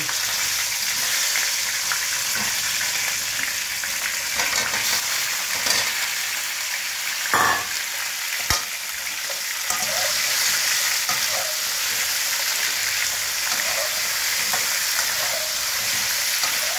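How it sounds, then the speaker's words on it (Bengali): Cauliflower pieces sizzle steadily as they fry in a pan, a continuous close hiss broken by a few brief stirring scrapes and clicks, with no talking. "ফুলকপিটা ভাজা করব।"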